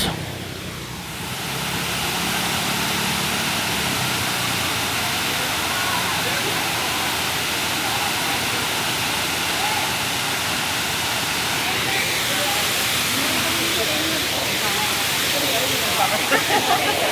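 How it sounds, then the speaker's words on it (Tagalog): Tamaraw Falls pouring steadily, a constant broad rushing roar of falling water at close range, with voices talking over it at times. "They call it Tamaraw Falls."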